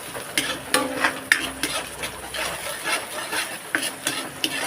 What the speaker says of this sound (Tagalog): At igisa natin itong bawang, sibuyas.